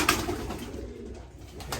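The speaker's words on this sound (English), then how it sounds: "I got satinets in here, roller pigeons, mostly racing pigeons," Pigeons in a stock loft of satinettes, rollers and mostly racing pigeons coo softly and continuously, close by and alone, with no talk.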